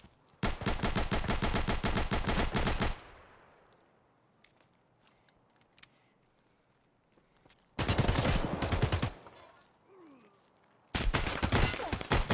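Rapid automatic gunfire in the shooter game Escape From Tarkov comes in three long, loud sustained bursts, separated by a quiet stretch with faint scattered noises.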